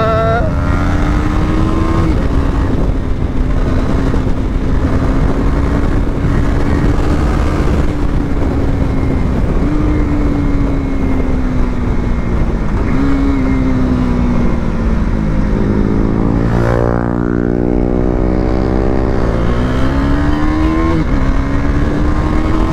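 A KTM Duke 390 and a Yamaha MT-15 run a drag race. Their engines whine loud and close, climbing in pitch through repeated gear shifts, with a strong revving surge near the end.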